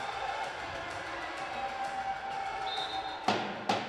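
Sauga City supporters group cheering at an indoor arena soccer match, a thin, distant crowd roar with a couple of sharp bursts near the end.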